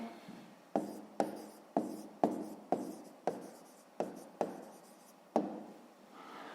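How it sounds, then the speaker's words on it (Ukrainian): A pen writes out the answer to a sixth-grade maths exercise on paper, making a series of about ten quick scratchy strokes at a steady rhythm, close and fairly quiet. "Ну що ж, записуємо відповідь."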